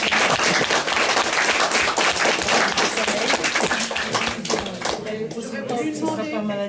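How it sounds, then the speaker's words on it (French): Audience applause breaking out at the close of a French public talk on Parkinson's disease, dense sustained clapping from a crowd that gradually thins toward the end, with some voices mixed in. "je crois qu'on peut vous applaudir"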